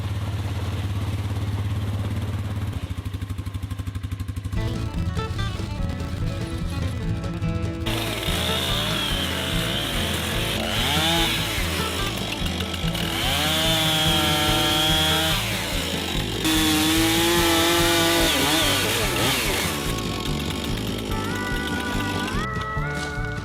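A chainsaw cuts logs into long pieces on wooded property in Alaska, its engine revving up and down continuously and loud close by as the chain bites through the wood for over twenty seconds.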